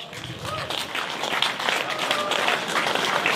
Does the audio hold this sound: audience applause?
yes